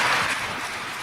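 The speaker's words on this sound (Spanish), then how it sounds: "Denle un aplauso al Señor Jesucristo" Applause from a church congregation during a Spanish-language sermon, a dense, steady clatter of many hands heard close and full, holding evenly without any talk over it.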